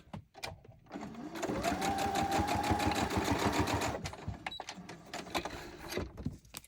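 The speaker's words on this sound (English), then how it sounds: "Bring the sewing machine back in because I thought we'd done with that." A sewing machine stitches through junk journal pages in one steady, rapid run of about three seconds, followed by a few short, separate stitch bursts, close and clear.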